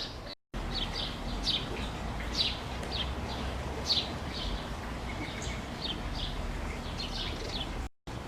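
Small birds at a seed feeder chirp and tweet repeatedly in short bright bursts, with a faint rustle and steady outdoor background noise.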